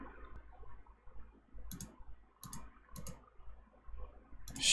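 Sharp mouse clicks on a computer while starting play mode in the Unity game editor, several isolated taps spaced about a second apart, close and fairly quiet, with no talking.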